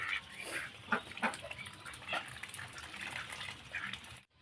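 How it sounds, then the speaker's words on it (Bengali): Ducks dabbling and sipping from a small amount of water poured out for them, giving soft irregular wet slurps and splashes that run steadily, with faint background noise and no talk. "দেখো হাঁস খায় জল, ওদের জলের দরকার।"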